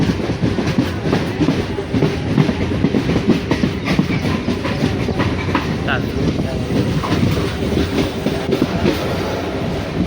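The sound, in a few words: train running, heard from inside a passenger train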